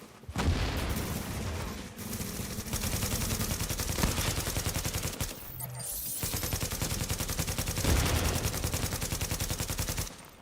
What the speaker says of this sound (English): They are shooting my station.